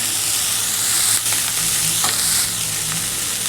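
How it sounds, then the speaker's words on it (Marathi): Chigal greens stirred into onions frying in a pan, a loud, continuous sizzle with a few soft scraping strokes as the leaves are spread and mixed. "आता आपण ही भाजी टाकलेली छान कांद्यामध्ये पसरून घेऊया"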